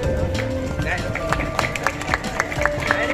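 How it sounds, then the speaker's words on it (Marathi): A crowd claps at an outdoor mango-eating contest, with scattered sharp claps over a busy background of chatter and a voice talking over it. "टाळ्या जोरात मित्रांनो"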